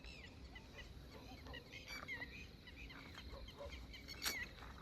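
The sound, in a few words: birds calling near a lake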